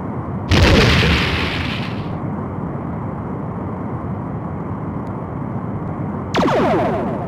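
Star Trek: A Final Unity PC space combat sounds: a loud boom bursts in near the start and fades after about two seconds over a steady engine-like rumble, then a second sharp explosive burst hits near the end.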